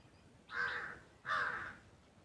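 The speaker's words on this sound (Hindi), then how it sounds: "कौवा भी काएं काएं करने लगा जो मेरे सामने बैठा था" A crow caws twice, two harsh, close calls about half a second apart with a short gap between them, heard alone against a faint background.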